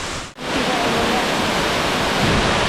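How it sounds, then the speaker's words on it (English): A loud, constant roar of a waterfall in the Scottish Highlands fills the air, a dense rushing wash after a brief dropout at the start. "we can hear the waterfall already"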